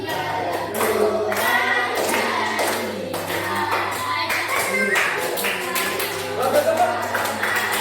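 Children clap their hands in a steady rhythm while singing together, a busy crowd of young voices with bursts of claps running throughout at close range.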